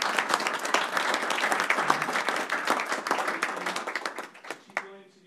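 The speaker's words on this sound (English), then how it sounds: "So we got a quick round of applause so we see it on camera." A small group at a board meeting gives a quick round of applause, distinct individual claps close by, which taper off near the end as a voice begins speaking.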